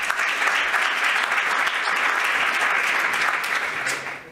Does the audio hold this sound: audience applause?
yes